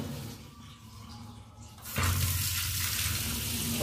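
A kitchen sink tap is opened during a pressure test, with quiet background hiss giving way to a sudden loud, steady rush of running water that holds to the end.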